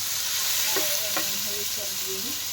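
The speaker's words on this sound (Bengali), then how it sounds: "এই যে আলু বেগুনটাকে একটুখানি ভেজে নেওয়া হচ্ছে।" Potato and eggplant fry in a pan, sizzling steadily and close by as they are stirred, with faint scraping sounds.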